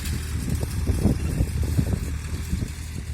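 A Farmtrac tractor engine rumbles at low idle during haylage baling in a field, a rough, low chugging drone with irregular knocks, moderately loud and without talk.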